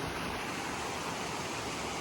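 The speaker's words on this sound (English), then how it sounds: "you can see most of the waterfalls from up here" Waterfalls pour down through rocks in a steady, dense rush of water that is heard from a distance. The roar fills the whole clip with no breaks and no talking.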